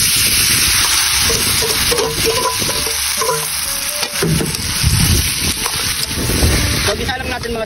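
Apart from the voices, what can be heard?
sisig mix sizzling in margarine in a pan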